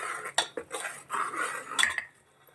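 A metal spoon scrapes and clinks against a cooking pot while masala is stirred and fried for avarekalu sambar, giving several sharp, close taps and rubbing scrapes in an uneven rhythm.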